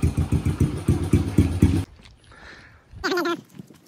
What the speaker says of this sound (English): I'm gonna let this warm up before we do the oil change.